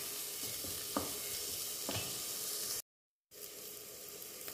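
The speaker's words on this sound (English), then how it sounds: "so now I'm going to add the capsicum and stir it." Capsicum sizzling in a hot pan while it is stirred, with a steady frying hiss and a couple of soft scraping strokes. The sound drops out briefly before the sizzle returns, close and moderately quiet, with no talking.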